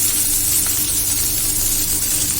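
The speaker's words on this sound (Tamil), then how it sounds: "கடாய் வச்சுட்டு நம்ம பச்சை மிளகா, வெங்காயம் எல்லாம் போட்டு மெதுவா எல்லாமே நம்ம வதக்கிக்கணும்" Green chillies, onion, ginger and garlic sauté in a kadai, giving a continuous close, loud sizzle and hiss with no pauses and no talking.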